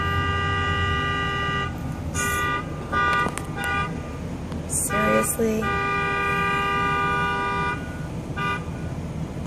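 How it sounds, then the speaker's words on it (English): Insistent car horn honking outside, sounding in repeated long blasts and short toots with brief gaps, fairly distant and steady, while a person briefly speaks. "Whoever is honking like that, they better need some help to be honking like that."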